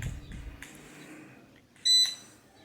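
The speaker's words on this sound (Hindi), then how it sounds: "बीप का साउंड आता है और उसके बाद पंखा जो है ना स्टार्ट लेता है" A single short electronic beep sounds clearly as an AC/DC electric fan switches on after a quiet stretch, with faint mechanical noise before it.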